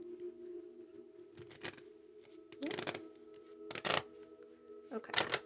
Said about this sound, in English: having some issues shuffling